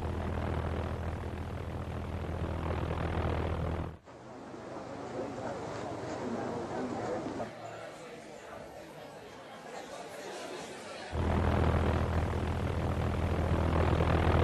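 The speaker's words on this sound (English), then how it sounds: "The Luftwaffe had the V-1 flying bomb, an unmanned aircraft packed with explosives, with a sound that would strike terror" A harsh, rattling V-1 flying bomb pulse-jet engine drones continuously, dipping in the middle before returning loud, with faint murmuring voices in the background.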